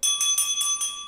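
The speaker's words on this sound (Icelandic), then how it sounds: "njótum þessar hljómfögru bjöllu" A clear, bright hand bell rung at the opening of a city council meeting, four quick ringing strikes in succession with a lingering metallic shimmer, close and loud in a quiet chamber.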